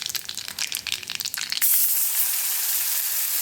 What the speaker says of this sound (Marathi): आता ह्याच्यामध्ये ना मी हे ग्रेव्ही भाजून घेते.